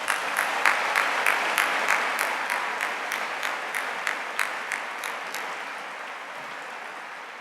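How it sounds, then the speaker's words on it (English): Audience applause fills the room after a live panel talk, a dense, steady wash of clapping with sharper individual claps standing out, holding strong for several seconds before gradually thinning toward the end. "So let's applaud Rachel as well."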